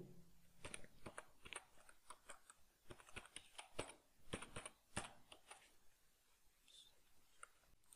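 Keys clatter on a computer keyboard in quick, uneven bursts of clicks, close and fairly faint, with soft whispered speech underneath.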